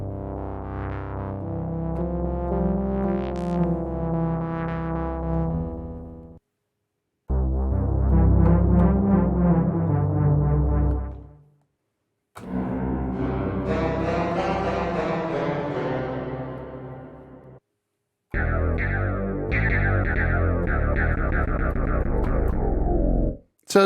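Four separate synthesized tones from a Pom Pom sound pack in GarageBand play one after another, each a sustained, effect-laden note, some distorted and chorus-like, a few seconds long with short silent gaps between.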